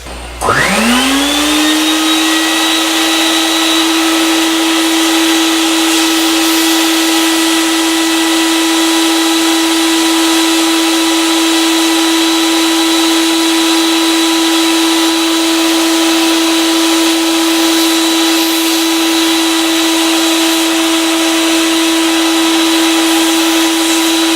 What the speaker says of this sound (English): air pressure blowing air into the oil tank, to see if that will free up anything